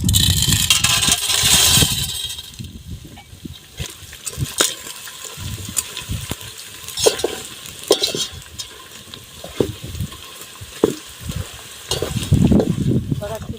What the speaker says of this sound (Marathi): आता मी पूर्ण डिंक त्याच्यात टाकून घेते आणि पूर्ण तळून घेते